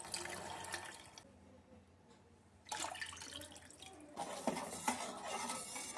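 Vinegar poured into a pot while making a syrup for pickling jalapeños, heard as bursts of splashing liquid with quieter gaps in between, fairly close and with no voice over it.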